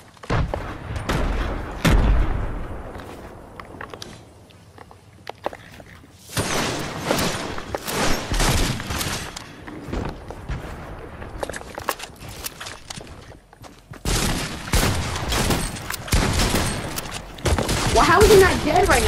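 Rapid bursts of gunfire from a shooting video game, loud and close, coming in dense volleys separated by quieter gaps with thuds and footsteps, while a player talks over parts of it.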